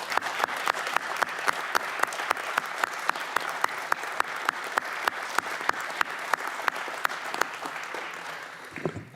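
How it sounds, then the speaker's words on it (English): Applause in a committee hearing room during a full committee markup, a steady patter of many hands with a few sharp, distinct claps standing out above it, ending abruptly. "offer an applause for the folks that are leaving"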